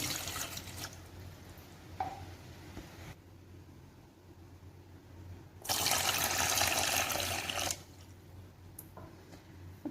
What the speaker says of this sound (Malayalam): ഫസ്റ്റ് നമുക്കൊരു പാത്രം എടുക്കാം അതിലേക്ക് ഞാനിവിടെ ഒരു രണ്ട് ഗ്ലാസ് അളവിൽ വെള്ളം ഒഴിച്ചു കൊടുക്കുന്നുണ്ട്